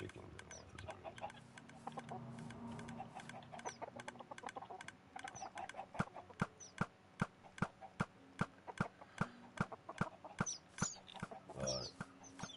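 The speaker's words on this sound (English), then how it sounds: "There's a lot of chickens in there for some reason." Minecraft chickens cluck in scattered bursts under low speech at first, then a regular series of sharp clopping hits takes over, with more clucks mixed in.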